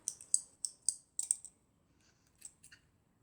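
Small scissors snip thread in Celtic tatting lace work with a quick run of five or six crisp, close snips, then a pause and two or three fainter clicks.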